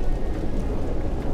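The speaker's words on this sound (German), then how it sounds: "Und jetzt regnet's noch." Steady rainfall in the video game Fallout: A Tale of Two Wastelands, with a low rumbling undertone, a constant wash of drops close by and no voices.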